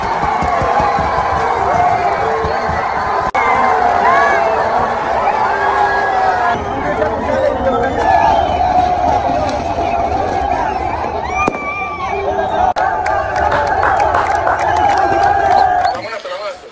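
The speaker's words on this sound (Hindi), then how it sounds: "भीड़ देखिए भाई कितनी है, जीत की खुशी।" A large street crowd celebrates Afghanistan's cricket win with loud, dense cheering and shouting, firecracker-like bangs popping through the din, voices close and overlapping throughout before dropping off at the very end.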